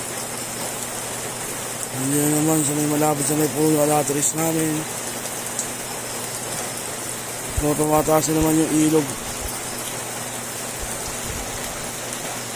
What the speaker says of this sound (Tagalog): Mula kagabi walang tigil ang ulan.